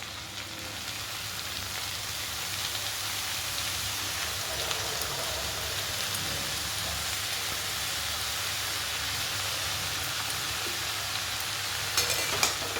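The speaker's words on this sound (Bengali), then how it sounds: "সবজিগুলো সুন্দর মতো ভাজা হয়ে গেছে" Mixed vegetables fry in a pan with fenugreek greens, giving a steady, rain-like sizzle that runs quietly throughout. Light stirring scrapes show up near the end.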